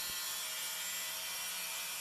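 Hand sawing and filing on parts for a rescue robot build produce a steady, dense scraping hiss, continuous and fairly loud with no pauses or voices.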